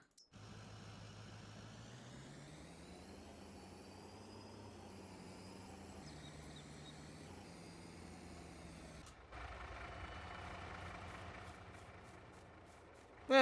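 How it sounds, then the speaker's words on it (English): A truck driving in Farming Simulator, a steady droning engine that rises and falls in pitch as it moves, followed by a hissing, brake-like burst near the end, with no talking. "I'm going to get this truck out of the way here a minute."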